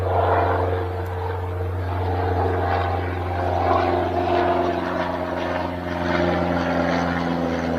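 Police helicopter circling and banking overhead, a steady low droning rotor hum with a broad wash of engine noise, moderately loud and continuous throughout.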